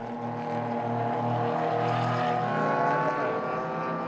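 A Speed Factor BMW race car driving a circuit, its engine holding a loud, sustained tonal drone that rises slightly in pitch as it passes, with no break in the sound.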